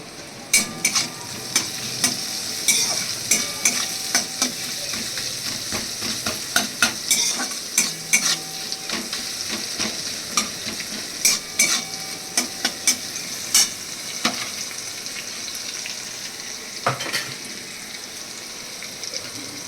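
Onions fry with garlic cloves and a pinch of salt, a close steady sizzle punctuated by frequent clicks and scrapes of a spatula stirring the pan, with no voice.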